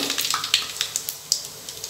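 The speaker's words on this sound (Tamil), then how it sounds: "எண்ணெய் சூடானோடனே" Mustard seeds in hot oil for kuzhambu crackle and pop in sharp, scattered bursts over a low sizzle, close up and brief.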